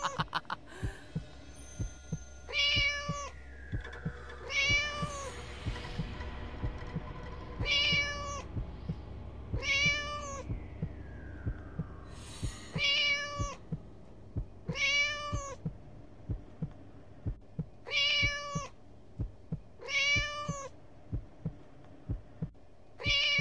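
A cat in the video game Scary Teacher 3D meows about a dozen times in evenly spaced, clear calls over a low, throbbing game background with no talking.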